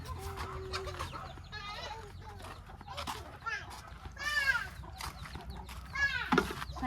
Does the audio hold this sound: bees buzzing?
no